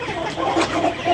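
Tiger Sasso chickens raised on a village farm cluck in short overlapping bursts nearby, a busy flock chatter over steady background noise.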